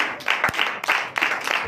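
Church congregation applauding at a Sunday Sabbath service in Comè, Benin, a dense crowd clapping in irregular, swelling bursts at moderate loudness, with no voices standing out.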